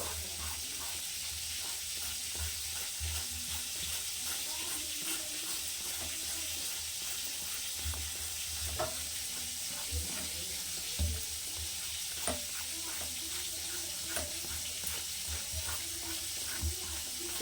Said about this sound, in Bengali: তো ওদিকে ভাজা হচ্ছে